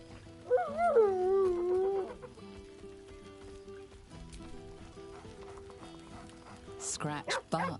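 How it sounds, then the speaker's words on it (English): A dog in the video game Baldur's Gate III gives a short whining, yelping vocalization near the start, with game ambience and scattered sounds after it and a brief burst of sound near the end. "Scratch barks merrily in something like agreement."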